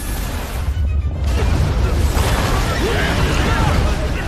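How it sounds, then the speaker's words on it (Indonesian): Explosion effect from the Soul Land 2 animation, a blast at a Northwest Corps headquarters, rolling in as a broad rumbling roar that swells and sustains for several seconds after a brief quiet gap. "tiba-tiba saja terjadi sebuah ledakan dari arah markas Korps Barat Laut"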